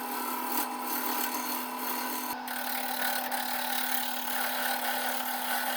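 A wooden cup being shaped on a lathe, a steady humming spin overlaid by scraping tool contact on the turning wood, with one sharp catch partway through; no voices.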